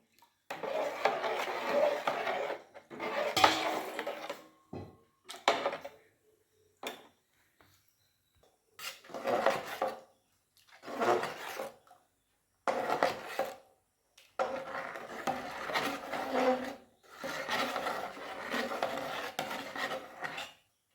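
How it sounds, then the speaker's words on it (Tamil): Rice flour koozh batter stirred continuously in a pan, with repeated scraping and rasping strokes that come in bursts separated by short pauses, close up with no talking. "நல்லா இடவிடாமல் கிளறிக்கிட்டே இருக்கணும்"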